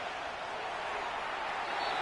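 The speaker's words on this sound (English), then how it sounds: "The noise very loud from the crowd." Loud crowd noise fills the stands at a football game, a dense, steady roar of many voices with no breaks or distinct calls throughout.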